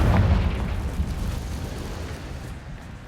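A Confringo fire spell explosion in Hogwarts Legacy: a single broad, rumbling blast that hits loudest at the start and then rolls away into a fading roar over a few seconds.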